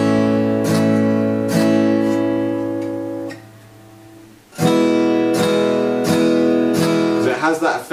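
Acoustic guitar strummed close up: steady, ringing chord strokes with an awkward slowdown and a near-silent gap before the chord change, followed by more rapid strums of the new chord.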